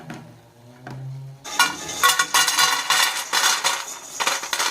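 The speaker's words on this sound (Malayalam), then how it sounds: "ഇത് ഞാനിപ്പോൾ പാത്രത്തിലേക്ക് ഇടുമ്പോൾ തന്നെ നിങ്ങൾക്ക് മനസ്സിലാവും ഇത് എത്രത്തോളം ക്രിസ്പി ആയിട്ടാണ് നമുക്ക് കിട്ടിയതെന്ന്" Crispy homemade school snacks tumble into a vessel with a bright, crunchy clatter and rattle. A sustained tone comes first, then the rattling arrives in several loud bursts that continue to the end.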